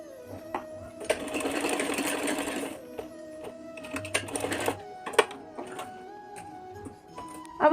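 Sewing machine stitching net fabric for a small dress base, running in two loud close bursts of rapid whirring stitches with ticking mechanical clicks and quieter handling sounds between them.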